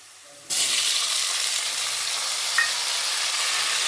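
Tomatoes drop into a hot frying pan for a stuffed brinjal curry, and a loud, steady sizzle bursts in suddenly and hisses on without a break, close by.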